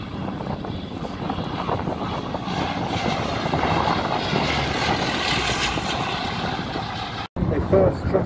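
A vintage Bristol Blenheim propeller aircraft passes over an air show with a sustained, broad engine drone that holds steady and loud before cutting out abruptly near the end.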